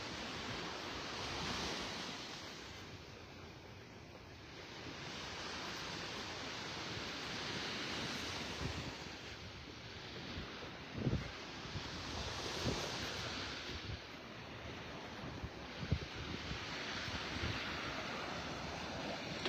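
Ocean waves on Vanderbilt Beach in North Naples, Florida, breaking and washing ashore in soft, rolling surges, fairly quiet and distant, with wind buffeting the microphone and a few brief thumps.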